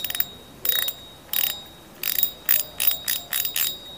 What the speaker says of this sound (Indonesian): nggak terlalu kecil juga, nggak terlalu nyaring, sedang ini teman-teman ya suara clickernya